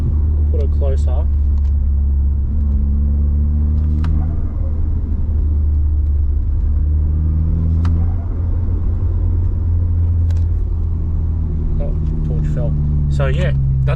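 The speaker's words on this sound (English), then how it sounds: "I'm letting go of the accelerator, but at the same time I'm double tapping it." A stock Golf MK6 R idles with a deep rumble, and the accelerator is released and double-tapped in short blips that give a turbo flutter, loud and close.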